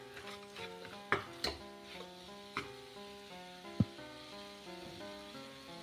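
Chili powder and turmeric frying in a pan of mutton curry, a soft sizzle under occasional stirring and sharp spoon taps against the pot, with background music.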